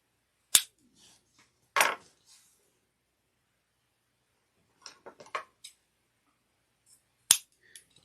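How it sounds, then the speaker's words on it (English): Scissors cut a 14-inch zipper for a vintage handbag project: a few sharp, isolated snips and clicks with quiet gaps between them, close and fairly faint. "cut a 14-inch zipper."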